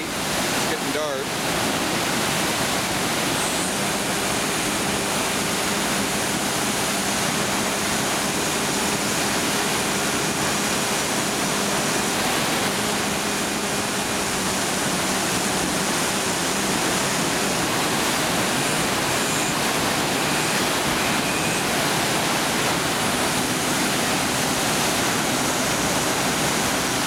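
Turbulent water splashes and churns continuously at dusk, a steady dense rush like a small waterfall or stream that fills the whole stretch with no pauses, close and fairly loud.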